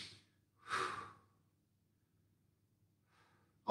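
During a mobility stretch, a person takes two deep breaths, a short exhale followed by a longer, louder one, then a quiet pause before another breath begins; close and alone.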